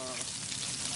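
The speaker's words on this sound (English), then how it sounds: "Oh, listen to that sizzle." Bacon frying in a pan at a trackside cooking setup hisses and crackles steadily and densely, a close, continuous sizzle with no pauses.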